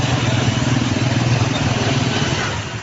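A motorcycle engine runs close by, a steady, throbbing low putter with regular pulses that eases slightly toward the end.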